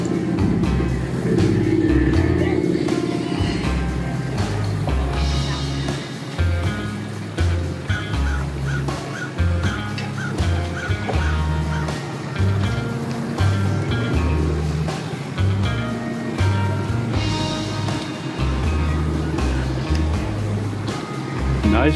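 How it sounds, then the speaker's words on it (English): A motorboat approaches a busy boat ramp, its engine a steady loud rumble throughout, with a dog barking repeatedly nearby and other traffic noise mixed in. "And here comes that other boat trying to get in here."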